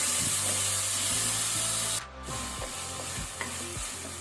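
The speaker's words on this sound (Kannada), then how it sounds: "ಟೊಮೆಟೊನ ಸ್ವಲ್ಪ ಫ್ರೈ ಮಾಡುವ, ಟೊಮೆಟೊ ಸಾಫ್ಟ್ ಆಗಲಿ." Tomato fries in a pan while being stirred, giving a continuous loud sizzle with repeated scraping strokes of a spoon against the pan.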